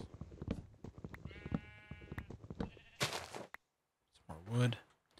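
Minecraft sheep bleat in a busy game scene, with a clear, loud bleat near the end after a brief pause, following clattering in-game activity and a mix of other game sounds.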